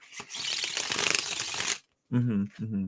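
Tarot cards being shuffled, a close, dense rustling and riffling for almost two seconds, then a brief pause before a person starts talking.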